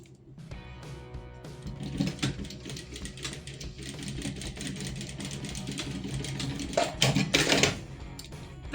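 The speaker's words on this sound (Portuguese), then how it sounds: "Vamos fazer uma costura pé de máquina aqui na parte de cima" A sewing machine runs a straight stitch along the top edge of a fabric toiletry bag, a steady mechanical whir and rapid clatter that holds almost unbroken for several seconds, with a louder burst of stitching near the end.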